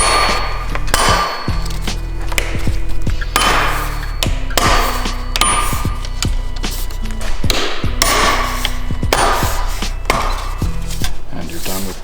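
Plastic trim clips being popped out of a Mercedes G63 AMG, a string of sharp snapping knocks and clacks in irregular bursts, close and loud, with no talk over them.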